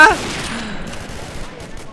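Bursts of rapid video game gunfire during a dungeon boss fight in Warz RabbitZ, a sharp crack at the start, then sustained noisy shooting continuing steadily, loud and close.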